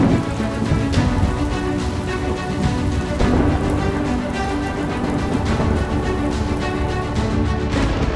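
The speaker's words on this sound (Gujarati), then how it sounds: "મુશળધાર વરસાદમાં રસ્તાઓ બન્યા દરિયો।" Torrential downpour over flooded roads in Dwarka, Gujarat, a constant, loud hiss and wash of rain close by that stays steady throughout, with no talking.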